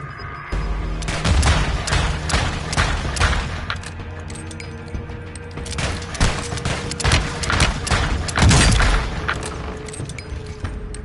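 Call of Duty gunfire rattles in repeated bursts of sharp shots, close and loud, with brief pauses between volleys and a few heavier booms.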